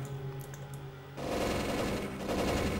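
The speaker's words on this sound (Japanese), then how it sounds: "こっちのタレットを開始していきます" Gun turrets in the factory game Factorio open fire after a second of quiet machine hum, then rattle in rapid, continuous automatic bursts, loud and steady to the end.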